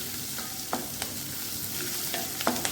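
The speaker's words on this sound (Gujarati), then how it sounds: "તેમાં આપણે આ મરચાં ઉમેરી દઈશું અને થોડીક વાર માટે સાતળી લઈશું" Green chillies fry in a little oil in a pan, a close, continuous sizzle with several quick clicks and scrapes from stirring, no voices.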